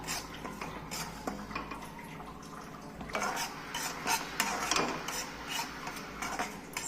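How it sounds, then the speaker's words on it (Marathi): Sweet karanji filling is roasted in a pan while being stirred, with a close, uneven scraping of the spoon against the metal, light clinks and a soft frying crackle underneath. "मस्त भाजून घेतला पाहिजे याला, तो छान लागणार आहे।"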